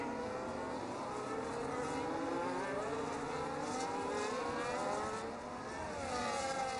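Race cars at the Barcelona circuit in a pack heading into turn 1, a steady loud engine roar with shifting revving tones as several cars pass together.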